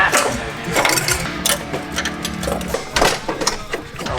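A ratchet clicks in quick bursts as bolts are tightened on a car's crash bar during intercooler piping work, close and mechanical with a metallic rattle and short pauses between strokes.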